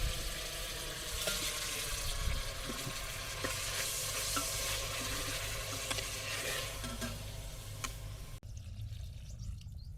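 Marinated mutton fries in oil with cloves and bay leaves over a wood-fired stove, a steady close sizzle with stirring scrapes, cutting off abruptly near the end; no one speaks.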